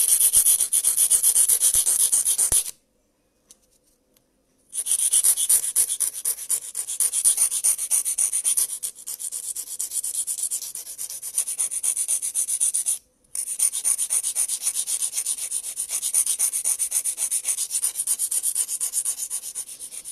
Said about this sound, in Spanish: cuando les toque limar una uña ovalada con tips, se comienza de abajo